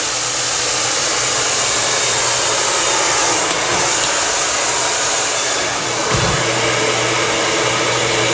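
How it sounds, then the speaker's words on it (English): A hair dryer blow drying hair runs continuously with a loud, even whoosh, the airflow shifting slightly in pitch as it moves, with no talking. "So I'm going to blow dry this forward."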